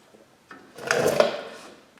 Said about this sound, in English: I'm going to go ahead and put this